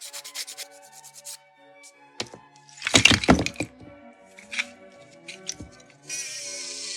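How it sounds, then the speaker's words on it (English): Hand sanding of rough 3D pen filament figure pieces, with close, dry rubbing scrapes in short irregular strokes, some sharper crackling passes, and a steady hiss near the end. "I had to hand sand to remove all the harsh parts."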